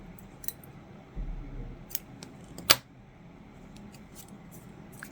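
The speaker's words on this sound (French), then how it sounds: "Une maille en l'air et on coupe le fil ici." A pair of scissors makes one sharp, close snip through crochet yarn, preceded by soft handling rustles and light clicks; no speech.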